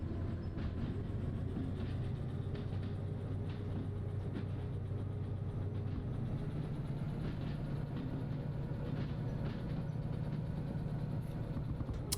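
A train running in the driving simulation game Derail Valley rumbles steadily with a continuous low engine drone and rattling wheel noise, sustained and even for the whole stretch, without talk.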